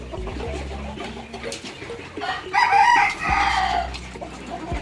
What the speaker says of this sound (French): Vous voyez, c'est beau le levage de poulet les gars.